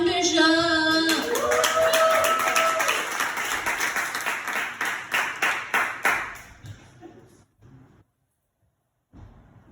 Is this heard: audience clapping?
yes